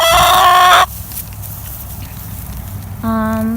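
Black Australorp chickens crowing loudly and close, with one long crow at the start and another beginning near the end, separated by a quieter stretch of low farmyard clucking and murmuring.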